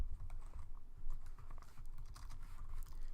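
Someone types Java code on a computer keyboard, rapid continuous key clatter over a low background rumble, close and moderately quiet, with no speech.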